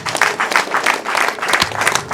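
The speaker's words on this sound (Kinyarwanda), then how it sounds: "Komera Imana yacu amashyi cyane" A crowd claps steadily and fairly loudly at a gathering, dense continuous applause with rhythmic pulses throughout.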